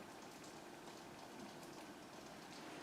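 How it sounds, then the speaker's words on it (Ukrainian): Rain falls steadily outside a partly open window as a soft, constant hiss that stays faint and even throughout, with no voices. "то якщо чуєте там на вулиці там дзюр, то не то, що ви подумали, то просто дощ іде"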